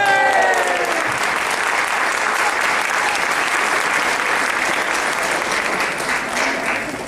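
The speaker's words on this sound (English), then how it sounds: "Let's give everyone another round of applause" Sustained audience applause fills a cultural programme hall in Gaborone after a play, a dense, steady wash of many hands clapping, with a voice briefly speaking at the start before the clapping continues alone.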